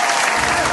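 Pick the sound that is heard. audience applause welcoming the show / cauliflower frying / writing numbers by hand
audience applause welcoming the show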